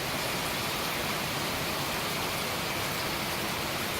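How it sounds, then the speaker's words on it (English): Steady rain pouring on the mountain trek route to Kedarnath near Gaurikund, a loud, dense, unbroken hiss with no voices. "Now it is still raining, but not in that velocity."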